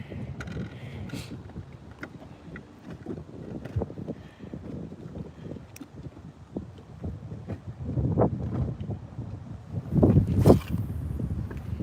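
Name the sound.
wind blowing on a fishing boat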